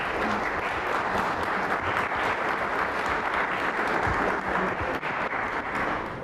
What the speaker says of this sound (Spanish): Les damos un fuerte aplauso por su presentación.